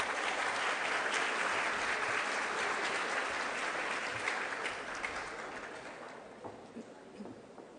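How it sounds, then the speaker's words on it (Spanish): An audience at a higher-education event on diversity and art gives a full round of applause, loud at first and then gradually tapering off to scattered claps. "Un aplauso, por favor"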